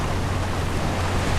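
Water splashes and rushes steadily around a ship in a seafaring video game, a dense, loud wash of noise with a low hum beneath and no voices.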